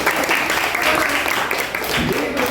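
Schoolchildren in an Indonesian classroom clap for a group's presentation, a steady wash of hand claps lasting a few seconds with a voice talking over it.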